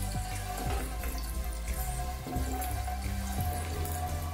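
Water runs from a tap as raw pork is washed in a basin, a continuous close splashing rush with bumps and sloshes of handling throughout.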